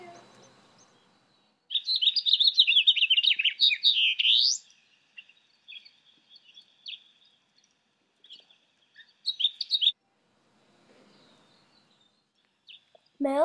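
Red house finch chicks chirping in a nest, a dense burst of high twittering followed by scattered short chirps and brief calls separated by silence, close and clear.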